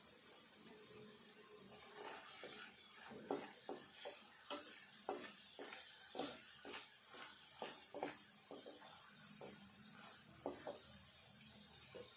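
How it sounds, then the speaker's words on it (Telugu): Garlic and dried red chilies frying in a pan as a palak curry begins, with soft spattering under repeated sharp stirring clicks from a spoon against the pan, steady and fairly close. "ఈ ఎల్లిపాయలను ఎండుమిర్చి కొంచెం దూరగా మంచిగా వేగాలి"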